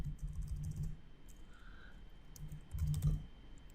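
Python code typed on a computer keyboard: a few short bursts of soft, close key clicks separated by brief pauses.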